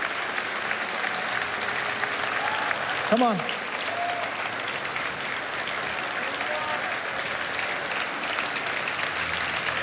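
A church congregation applauds steadily through a worship service, a dense, sustained wash of clapping with a voice briefly calling out over it.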